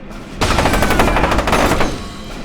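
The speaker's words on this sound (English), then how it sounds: "Look out! Grenade!" In the shooter game F.E.A.R. 2, a loud burst of rapid gunfire and a grenade blast erupt after a brief lull, close and harsh for about two seconds.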